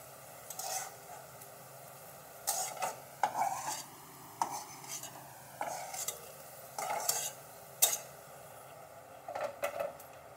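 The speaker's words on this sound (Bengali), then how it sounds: "তো আমি রসুনটা এখন ভেজে নেব।" Garlic frying in oil in a pan, a quiet sizzle under repeated scraping stirs of a utensil against the pan, coming in short bursts every second or so.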